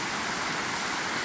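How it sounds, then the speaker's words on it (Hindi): A stream in a national park rushes steadily, a dense, even roar of flowing water, close and fairly loud with no voices. "ये बेसिकली पानी के चलने की आवाज़ है."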